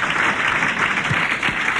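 A studio audience on a French radio comedy panel show gives loud, continuous applause, a thick wash of clapping with no speech over it.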